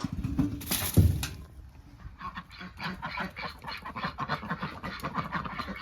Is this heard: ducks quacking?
yes